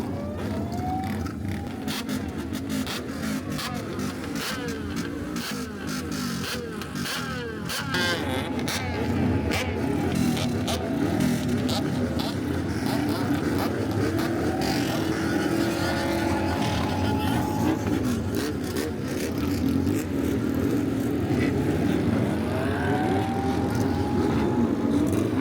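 Loud gathering of Bosozoku motorcycles and Kaido Racer style cars at Daikoku PA, with engines droning and revving continuously through a busy, echoing parking area.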